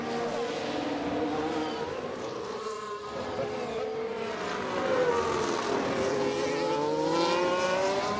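Formula 1 race cars in the video game F1 Manager 22 during the Spanish GP, a buzzing whine of engines rising and falling in pitch as cars pass, steady and moderately loud with no talking.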